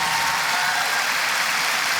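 Steady, dense applause from a crowd at a keynote event in London, a continuous wash of clapping filling the whole moment with no voices standing out.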